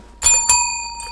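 A dog rings a bell for treats, two bright metallic dings in quick succession, each ringing on with a clear sustained tone, close and alone.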